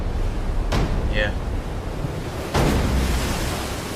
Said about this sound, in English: The waves were really big, crashing over them